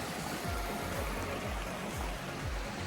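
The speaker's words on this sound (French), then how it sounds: "et t'entends le bruit de la rivière" Along the Fall Creek loop trail in Felton, a river runs with a constant, full rushing sound, close by and unbroken, with no voices.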